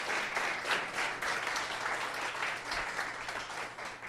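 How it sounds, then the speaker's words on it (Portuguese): Church congregation applauding during a Sunday family worship service, a steady, dense wash of clapping that holds at an even level throughout with no voices breaking through. "Dê um aplauso a Jesus, por favor, aleluia, glórias ao seu nome."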